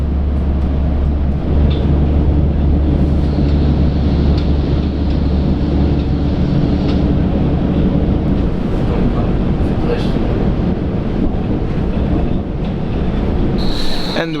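A Hamburg U3 ring line metro train rolls along with a steady loud rumble and hiss, wheels squealing briefly near the end. Faint voices sound inside the carriage.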